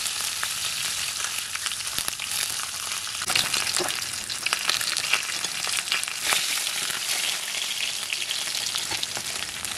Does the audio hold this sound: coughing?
no